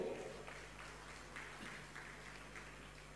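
An audience at a Jain religious question-and-answer gathering claps to honour someone. The applause is faint and distant, with soft pulses over a steady low hum.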